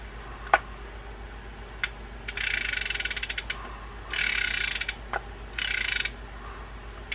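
Penn Spinfisher 9500SS fishing reel turned by hand after its nut is tightened, giving three bursts of rapid, even ratcheting clicks, close and clear, separated by brief pauses and a few isolated knocks.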